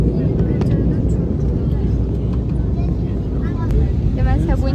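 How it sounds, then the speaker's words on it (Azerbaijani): Airliner cabin sound while a plane in flight banks over the sea near Antalya, a loud steady engine and air roar filling the clip, with a voice speaking over it. "həqiqətən də təyyarə indi dənizin üstündədir və dönür"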